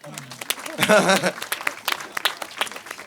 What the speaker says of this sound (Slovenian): Dajmo še en aplavz za Avdića, lepo prosim, no.